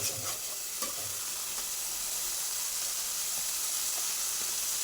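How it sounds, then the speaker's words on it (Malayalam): Shallots, green chilli, ginger and garlic fry in a pan for a beef roast, giving a steady, loud sizzle with a few stirring scrapes and no voices. "അപ്പോൾ നമ്മുടെ കൊച്ചുള്ളിയും പച്ചവളവും ഇഞ്ചി വെളുത്തുള്ളി എല്ലാം നല്ലപോലെ ഏകദേശം ഒന്ന് ഒരു മുക്കാൽ ഭാഗം വാടി വന്നിട്ടുണ്ട്"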